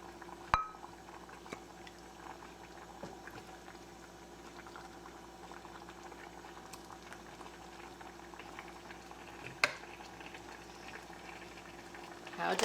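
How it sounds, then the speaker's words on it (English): A one-pot Mexican pasta dish simmers in a pot with a constant soft bubbling hiss, broken by a few faint clinks. "stir it around and let it simmer until all of the flavors have blended together"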